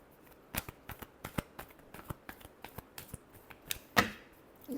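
Tarot cards are shuffled by hand in a quick series of soft, crisp flicks and taps, close and fairly quiet, ending in a slightly louder riffle.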